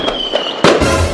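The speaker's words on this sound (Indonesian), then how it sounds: "tanpa adanya gangguan dari suara petasan itu." A firecracker bursts with a sharp crack and a brief crackling tail, loud and close, set off in an animation during evening tarawih prayers.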